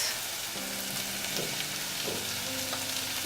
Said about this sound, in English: we will continue sauteing for about another 3 minutes